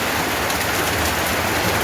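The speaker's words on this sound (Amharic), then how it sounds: "እንደምትመለከቱ ዛሬ ደግሞ በበረዶ ነው የመጣው ማለት ነው።" Heavy rain mixed with hail pours down steadily, a dense, continuous roar of drops and ice striking surfaces close by, with no voices over it.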